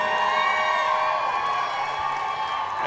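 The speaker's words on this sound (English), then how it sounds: "And the crowd cheers" Crowd at a powerlifting nationals meet cheering and shouting, with a sustained roar and scattered whoops after a lift.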